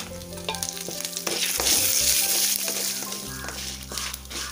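Small pieces of coconut, a couple of cashews and curry leaves roast in a hot pan with a busy, crackling sizzle that swells in the middle, alongside intermittent stirring; no voices.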